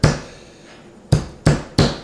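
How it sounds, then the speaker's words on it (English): A carpenter's hammer strikes chokecherries four times, with a sharp, close, loud thud at the start and then three quick blows near the end, each fading quickly. "you just smash them up, okay? Mash them. You want to crush all the seeds."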